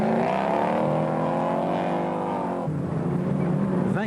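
Porsche-powered Fouquet off-road buggy racing in a 24-hour all-terrain event in France, its engine droning loud and steady with rising pitch, then a sudden drop to a lower rough note as it passes or shifts.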